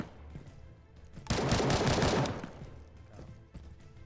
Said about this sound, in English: the gun sounds need to be fixed a little bit